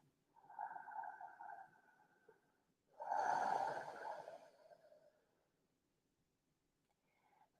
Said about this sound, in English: So make your exhale really long.